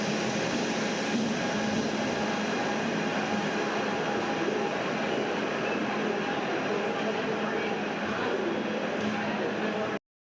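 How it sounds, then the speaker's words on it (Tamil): Chennai Central–Thiruvananthapuram Superfast Express pulling into a station, a steady loud rumble of rolling wagons and rail noise running throughout with voices faintly beneath. "நம்மளோட Chennai central Thiruvananthapuram super fast express அந்த ட்ரெயின் வந்துட்டுருக்கு"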